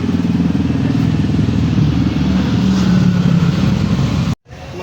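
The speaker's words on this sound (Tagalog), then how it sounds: "naririnig nyo mga nagpapadyakan na tricycle." Tricycles pass along a road with a steady, loud motor drone and clatter, heard close and continuous for several seconds before a brief cutoff.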